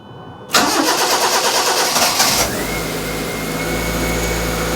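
A Proton Wira car engine, run without its airbox, cranks and catches with a loud roar, then drops after about two seconds into a steady, rough idle that continues to the end.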